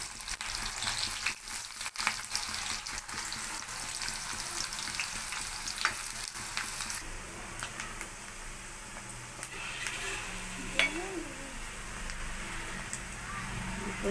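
Onions frying in a pan for an aloo palak curry, a steady close sizzle with occasional utensil clinks and stirring, continuing throughout with faint background sounds.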